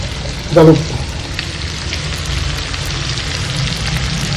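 Onions fry in a pan for an Assamese duck fry, giving off a steady, close, rain-like sizzle, with one brief knock near the start.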